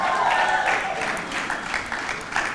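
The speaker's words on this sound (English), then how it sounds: "Let's give them all a big, huge round of applause" An audience applauds at the Virginia's Blue Ridge annual meeting, a dense, steady wash of many hands clapping that holds fairly loud and even for a couple of seconds.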